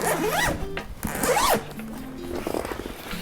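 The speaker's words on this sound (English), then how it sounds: "Zippers are really nice and smooth." Zippers on a Nomatic backpack V2 being pulled open and closed, a few quick smooth rasping strokes up close, with brief pauses between them.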